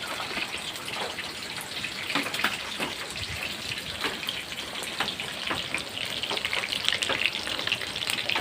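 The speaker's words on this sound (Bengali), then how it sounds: "এই যে আমি এখন পকোড়া ভাজছি" Pakoras fry in hot oil with a soft, steady crackle and scattered pops running throughout, fairly quiet and close, with no talking.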